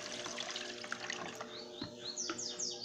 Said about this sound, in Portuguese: Agora eu vou colocar aqui 2 litros de água